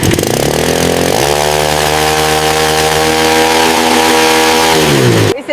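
An old Yamaha motorcycle engine revs loud and close in a garage, with a buzzing, chainsaw-like drone that climbs in pitch after a second, holds steady, then drops back before cutting off.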